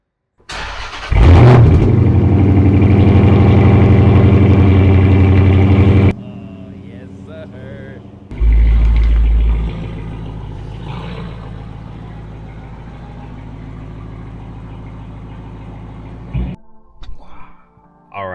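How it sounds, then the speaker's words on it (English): A car engine cold start: it cranks and catches with a loud burst, settles into a steady idle, then revs up again briefly before dropping back to a lower rumble. "I gotta get you guys a cold start."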